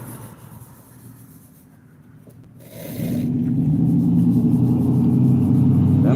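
A loud state police car passes through downtown at night, its low engine rumble rising sharply about halfway through and then holding as a heavy, close, steady roar, with no voices over it.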